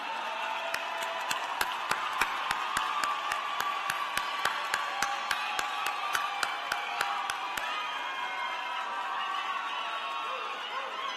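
A large crowd applauds graduates at a university commencement ceremony, sustained clapping with cheers spread through a big hall, heard at a distance, with sharp rhythmic claps standing out near the front.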